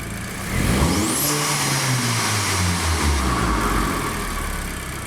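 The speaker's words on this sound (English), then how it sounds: "if you give it a full throttle response" Car engine in a diagnostic workshop revving up under full throttle, a rising roar that holds high and slowly falls away, close and loud.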